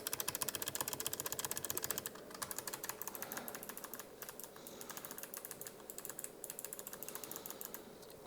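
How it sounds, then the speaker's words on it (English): Computer keyboard delete key pressed repeatedly while a PC restarts to open the BIOS: rapid, even clicks of fast tapping close to the microphone, continuing for about eight seconds, with no talk. "on your keyboard, you're going to spam the delete button on your keyboard"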